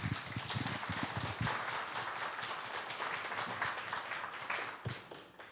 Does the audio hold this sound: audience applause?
yes